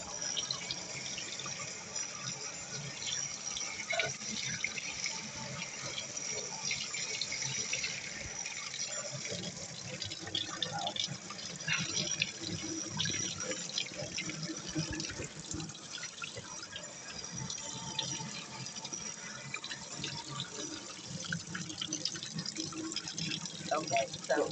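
Tap water runs continuously from a faucet in a shower while hair is rinsed, a steady close splashing gush with shifting drips and spatter throughout.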